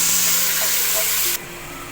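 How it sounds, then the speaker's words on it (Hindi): Turmeric, salt and whole chillies with tomato fry in a pan for bhindi masala, giving a steady broad sizzling hiss that drops sharply quieter near the end, with no talk. "हमारा मसाला भुन रहा है"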